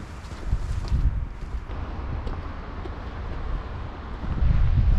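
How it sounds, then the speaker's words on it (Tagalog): Cold wind in Iceland buffets the microphone in low, uneven rumbling gusts, swelling strongest near the start and again at the end, with faint rustling beneath. "Basta ang hangin, malamig."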